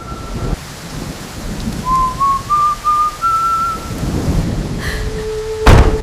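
A person whistles a short, steady rising tune of held notes over heavy rain and distant rumbling thunder, ending with a sharp thud.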